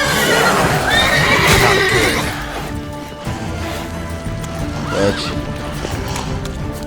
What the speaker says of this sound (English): Bak, Roach önüme geldi